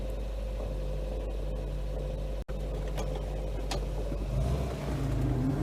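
A Volvo 122 Amazon estate car reverses along a congested road, its engine a steady, close low hum and drone that swells slightly near the end, with a brief dropout midway and no talking.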